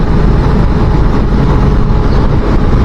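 A 250cc motorcycle with 26 horsepower rides on a UK country lane, its steady engine drone heavily buffeted by loud wind rumble against the microphone, with no break throughout.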